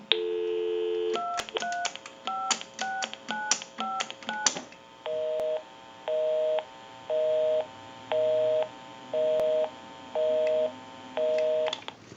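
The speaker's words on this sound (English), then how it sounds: "We'll call my number and it'll be busy." A repaired, converted single-slot payphone dials a number in quick touch-tone beeps, then answers with a repeating busy signal, evenly spaced pulsing tones, clear and close with no talking.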